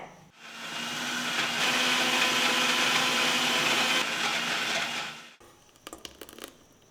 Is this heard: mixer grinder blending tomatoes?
yes